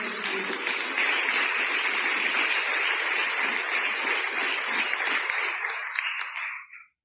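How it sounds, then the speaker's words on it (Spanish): A church congregation gives a strong round of applause during a sermon, a loud, dense roar of clapping that holds steady and then fades out near the end. "¿Cuántos le dan un fuerte aplauso al Señor?"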